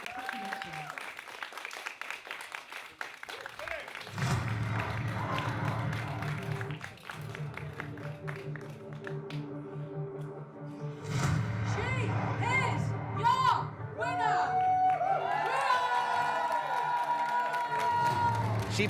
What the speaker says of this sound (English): The crowd is very happy to see that payoff for Rhio.